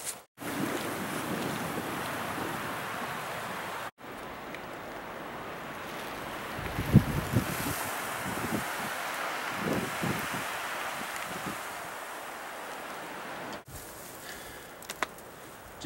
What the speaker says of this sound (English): It's pretty windy this morning.